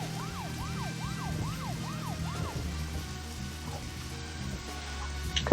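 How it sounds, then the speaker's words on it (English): A police car siren in the video game Deadly Premonition wails through six rising-and-falling cycles, then cuts off, leaving a low engine hum and a brief sharp noise at the end. "Because the sirens are on."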